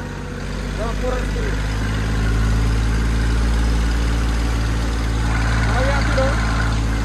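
A tractor engine drones steadily at a low, even idle throughout, close and loud, while someone talks over it.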